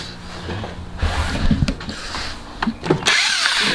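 Working on a motor, a DeWalt power tool drives against bolts in short bursts, whirring and rattling close up, with a clattering impact rhythm and brief pauses between pulls.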